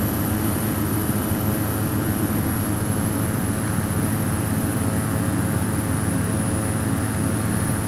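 Steady, droning propeller engine of a Piper Malibu aircraft in the flight simulator FSX, a continuous loud hum with a high whine on top, holding unchanged throughout with no talking.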